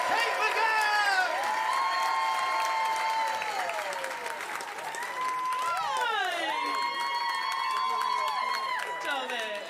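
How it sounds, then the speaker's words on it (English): An audience at a stand-up comedy show at Komedia, Brighton, claps loudly and continuously, with whoops and cheering voices rising and falling over the sustained applause. "Start the applause! Get it out! Bring it up!"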